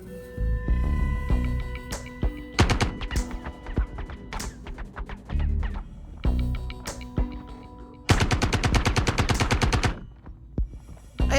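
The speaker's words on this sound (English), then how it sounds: "So next ship, we would try brute force with a weapon." A ship-mounted weapon in the space game Star Citizen fires at another ship in rapid bursts of rattling automatic shots over a low throbbing hum, with pauses between volleys and one long, fast stream of rounds near the end.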